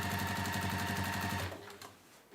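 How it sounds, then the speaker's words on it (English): A sewing machine stitches a tote bag seam with a quick, even mechanical chatter, a steady rhythmic run of needle strokes heard close and fairly quiet before it slows and stops. "I'm just letting my sewing machine do the job"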